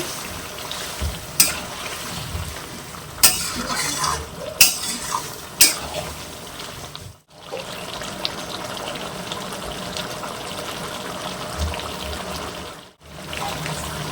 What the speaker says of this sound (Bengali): ঝোল ফুটতে লেগে গিয়েছে,